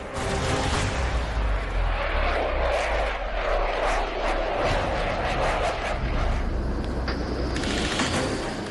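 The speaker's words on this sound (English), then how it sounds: "The Rafale is a beast of a jet, powered by twin jet engines that make it one of the most agile jets in the air." A Rafale fighter jet with twin jet engines roars loudly and continuously, a broad rushing engine noise that swells and shifts as the aircraft passes.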